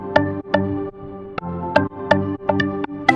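A plucky synth line with bus sidechain compression: bright repeated notes that duck and swell rhythmically between hits, loud and alone with no voices.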